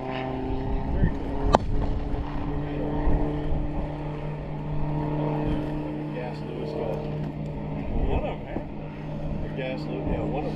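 A Nieuport WWI fighter plane's engine runs steadily at a WWI reenactment air raid in Newville, a continuous droning hum with some rougher moments, heard at a moderate distance with background noise.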